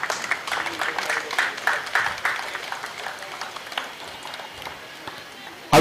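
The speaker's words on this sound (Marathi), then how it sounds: "जोरदार टाळ्या वाजवा एकदा वैभवसाठी." Crowd clapping at a local cricket premier league prize ceremony, a burst of many hands applauding that thins out and fades over several seconds, with background voices mixed in.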